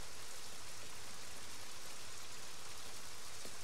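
Quiet, steady rainfall patters in the Heavy Rain video game. The soft, continuous wash of drops carries on alone with only a small tick near the end.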